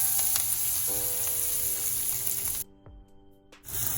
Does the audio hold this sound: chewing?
no